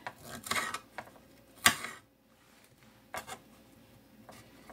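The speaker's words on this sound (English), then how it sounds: "I'm just quickly chopping up a few more strawberries to put in here" A knife chops strawberries in a few quiet, scattered cuts, with brief scraping strokes against a board and short silent gaps in between.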